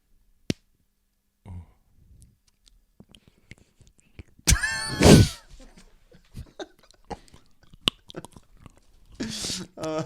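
Someone bites and chews 85% dark chocolate up close in an ASMR style, giving sparse crisp snaps and soft mouth sounds between stretches of near-silence, with a brief burst of talking in the middle.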